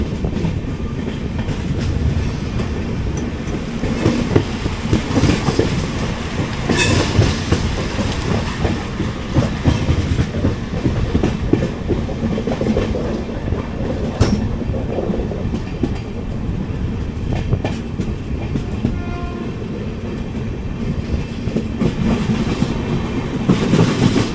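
The 06035 Tambaram–Kochuveli summer special train, heard from an AC economy coach after leaving Rajapalayam station, rumbles steadily along the tracks with continuous clattering wheels and a heavy, close roar that never lets up.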